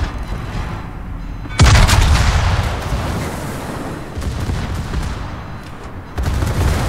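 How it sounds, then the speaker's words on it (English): Naval gunfire in World of Warships as an enemy Leningrad destroyer shoots: a loud, close salvo boom with a long rumbling decay, then a second blast near the end, over continuous battle noise. "I realize that the Leningrad has come all the way around and he's shooting at me"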